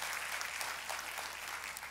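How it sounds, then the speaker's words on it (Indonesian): A church congregation applauds during a sermon, dense and even clapping that holds steady throughout, with no voices standing out. "tepuk tangannya paling meriah buat Tuhan kita."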